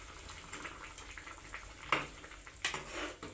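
Ivy gourd curry cooking in a pan, with a quiet bubbling simmer and faint sizzle, broken by a couple of soft spoon clinks and scrapes.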